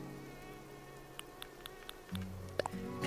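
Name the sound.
mosquito buzzing in the Animal Crossing New Horizons video game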